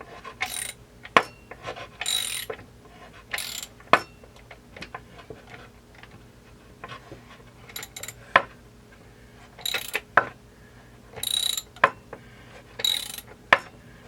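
Mechanical clicking of a ratchet turning the crankshaft of a Husqvarna 372 chainsaw with a crank tool, heard as scattered sharp ticks and short bursts of ratcheting close up, with no talk.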